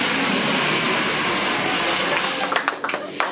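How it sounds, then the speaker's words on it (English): A propeller plane approaches an island airstrip on Panaeati Island, Papua New Guinea, a steady broad drone with wind-like noise, joined near the end by brief clattering and handling sounds close by. "the sound of an approaching plane was a welcome sight"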